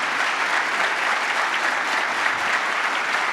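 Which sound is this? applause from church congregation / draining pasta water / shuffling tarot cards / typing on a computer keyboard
applause from church congregation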